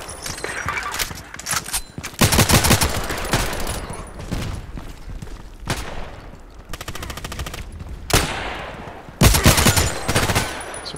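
KelTec RFB rifle fire in the shooter game Contract Wars comes as several loud bursts of rapid shots separated by short pauses, mixed with softer in-game background noise.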